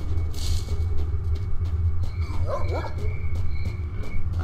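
In the video game STALKER: Shadow of Chernobyl, a dog barks loudly in a series of gruff woofs over a constant low rumble of ambient game noise.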